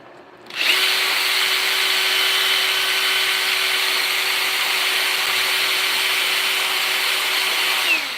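A power drill runs continuously at a steady high-pitched whine for several seconds, loud and close, with no talking.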